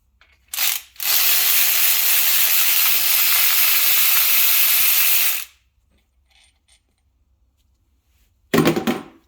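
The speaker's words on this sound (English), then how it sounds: "Now I'm going to throw it on the battery ratchet and take them out." A battery-powered ratchet backs out oil pan bolts on a BMW E46, one brief burst followed by a long continuous whir of about four seconds, then quiet and another short burst at the end.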